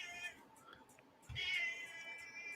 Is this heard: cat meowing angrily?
yes